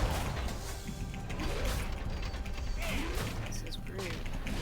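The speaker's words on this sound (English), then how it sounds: "He's throwing wrenches." Thrown wrenches clanking and rattling in World of Warcraft, a steady run of metallic mechanical clatter and creaks amid game effects, with a voice talking over it.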